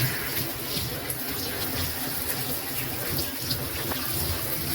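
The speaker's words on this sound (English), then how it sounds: "Now she's washing her hair." Water runs steadily from a tap while hair is washed at home, making a constant close hiss and splash with occasional soft knocks throughout.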